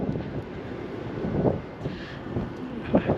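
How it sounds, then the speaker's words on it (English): A cool breeze blows across the microphone on the east side of Lake Mirror in Lakeland, Florida, making a low, gusty rumble that swells and fades, with faint bird sounds in the background. "I apologize, it is a little breezy out here today."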